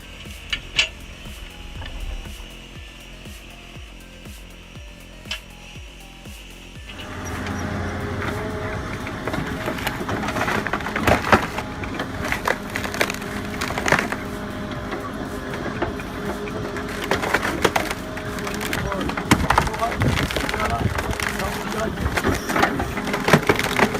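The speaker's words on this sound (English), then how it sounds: "The sound of the hydraulics and the wood splitting is like rhythm for a busy afternoon in the woods." A hydraulic stump planer works outdoors in the woods, its steady mechanical drone joined by repeated loud cracks and crunches of splitting wood, with the machine noise swelling after a quieter start.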